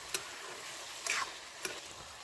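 A few faint scraping stirs as ginger and garlic are mixed in a cooking pot, soft sizzling beneath, with three brief clinks of a spoon spaced roughly half a second apart.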